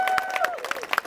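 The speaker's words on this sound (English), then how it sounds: "Can we all get a round of applause, please?" Wedding guests clap at an evening reception at Son Marroig in Mallorca, with a few loud separate claps over a brief burst of scattered applause and some voices.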